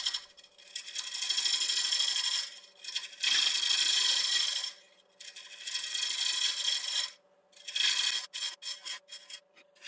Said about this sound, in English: So that's a 3/8 inch ball gouge. Just going to start truing up the bottom.